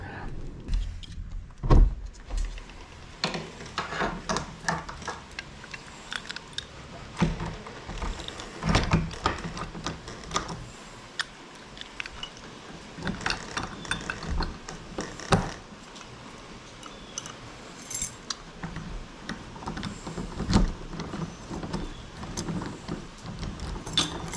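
A locksmith works on the back door locks of an old house, making scattered metallic clicks, taps and jingles of keys and hardware close by over a steady low background.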